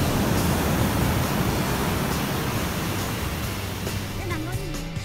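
Waves wash steadily onto a beach at sunset, a broad, continuous roar of surf close by with faint wind and a brief faint tonal sound near the end.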